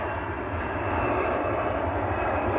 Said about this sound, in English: EasyJet rolling away on the other side as well